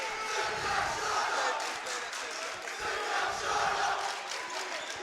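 Rival high school basketball crowds roar, shout and cheer at a state semifinal, Ramapo versus Wayne Hills, a dense, surging wall of voices in a gym with rising chants and yells, steady and loud throughout.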